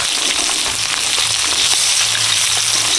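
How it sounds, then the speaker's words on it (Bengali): Five-spice tempering sizzles hard in hot oil in a wok that was just used to fry prawns. The frying crackle is loud, close and steady, with no talk over it. "ফোড়ন দিয়ে দিচ্ছি পাঁচ ফোড়ন"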